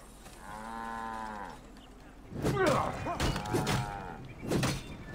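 A cow in Assassin's Creed Origins gives one drawn-out moo, followed by louder thumps and bursts of in-game action.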